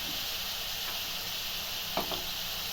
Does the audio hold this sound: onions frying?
yes